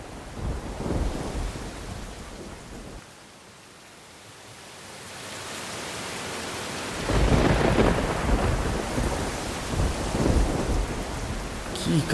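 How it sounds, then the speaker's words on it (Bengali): A nor'wester (Kalbaishakhi) thunderstorm pours heavy rain, with rolling thunder swelling, dipping briefly, then returning louder over a constant roar of rainfall. "অনেক দিন পর কালবৈশাখী এলো।"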